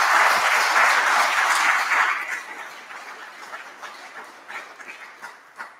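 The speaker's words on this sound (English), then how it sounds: "Come on, give them a round of applause." A church congregation claps loudly for a ministry class, the full applause lasting about two seconds and then tapering into scattered, fading claps and a few louder isolated hand slaps.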